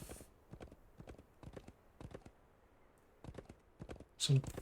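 Horse hooves clip-clop in the Wild West Dynasty video game, a steady quiet rhythm of paired hoof strikes with a brief louder thump near the end.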